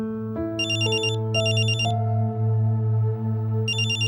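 A phone rings with a bright electronic ringtone, repeated bursts of trilling chimes over a steady low tonal drone, clear and close with no voices.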